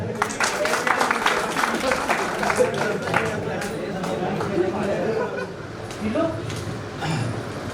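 An audience at a school event claps, a burst of close, dense applause mixed with chatter and voices that gradually thins out.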